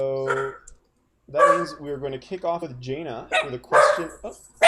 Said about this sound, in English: Oh, that's our dog.